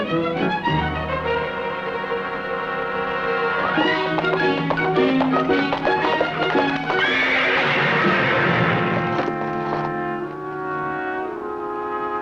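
A horse neighs in long, loud whinnies that rise and fall, close by and almost uninterrupted, with faint clip-clop of hooves underneath.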